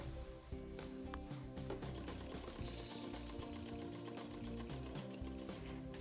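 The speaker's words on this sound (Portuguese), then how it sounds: "E fechamos com uma costura bem na beiradinha os 2 lados da peça." A sewing machine runs steadily while it stitches close along the edges of a small fabric cover for a 6-inch Kindle. The motor whirs and hums without a break at a moderate level, close by, with no talking.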